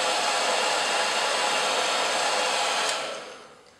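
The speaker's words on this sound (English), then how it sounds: "Or again, use the blow dryer." A blow dryer blasts a loud, steady rush of air while drying the adhesive bond on a tape-in hair extension, then winds down and fades in the last second.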